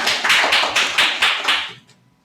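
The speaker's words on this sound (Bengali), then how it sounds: "একটা হাততালি" A small interview group gives a guest about six or seven loud, evenly spaced claps. The claps are close and clear, then stop abruptly and leave near silence.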